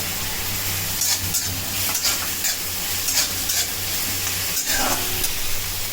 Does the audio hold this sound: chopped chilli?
yes